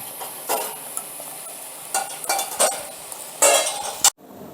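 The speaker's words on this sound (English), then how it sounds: "Make sure to mix it slowly so nothing spills." A utensil scrapes and clinks around a bowl while keto dessert batter with flour is mixed slowly, producing scattered short scraping bursts of varying loudness, close and clear, ending with a sharp knock before sudden quiet.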